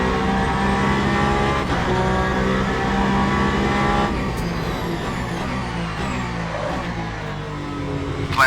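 Aston Martin race car at the Bahrain 8 Hours, its engine droning loudly and steadily with clear rising and falling harmonics through a corner at Turn 11, close and continuous with no talk.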